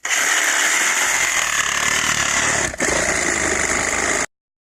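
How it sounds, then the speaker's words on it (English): Sawzall reciprocating saw with a guide cutting a circular hole through a roof for a light tube, a loud, steady buzzing drone held for about four seconds with one brief dip, no talking. "To do that, we're going to use our guide on our Sawzall."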